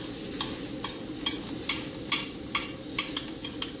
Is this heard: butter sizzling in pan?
yes